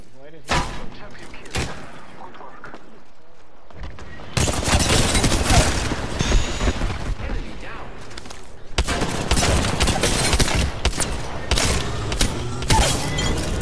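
Dense gunfire from the video game Apex Legends rattles in rapid bursts and long sustained volleys with sharp impacts, loud and close, while a voice talks over it at times.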